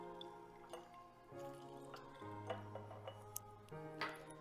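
Fresh blood orange juice drips and trickles into a jar as the fruit is squeezed by hand, faint close wet drops with a few soft glassy clinks against a quiet kitchen hum.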